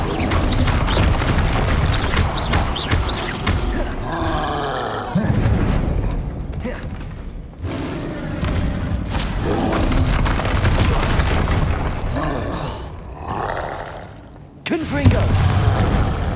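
Explosive Confringo spell blasts in the wizarding game Hogwarts Legacy: a sustained string of booming impacts and crashes with roaring bursts, dense and loud throughout, with spoken voices mixed in among the combat.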